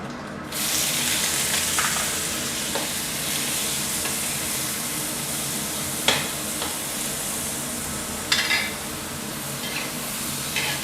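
Pieces of squid sizzle and crackle as they are stir-fried in a hot pan, with a few scraping stirs against the metal, steady and close.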